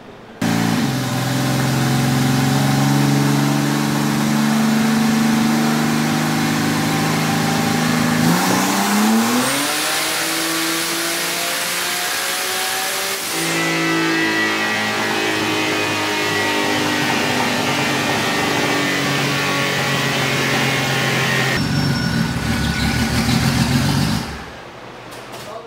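A powerful 4.2-liter car engine roars loudly as it accelerates hard, its pitch climbing through the gears in a sustained, close full-throttle run, running rich.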